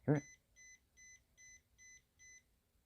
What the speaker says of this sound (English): That's all the beeps you get when it's done.